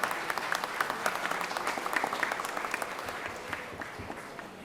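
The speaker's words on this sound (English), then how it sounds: "Clap, clap, clap." Members clap in the Georgia Senate chamber after a resolution is adopted: a moderate, fairly quiet patter of many hands with distinct claps, gradually thinning toward the end.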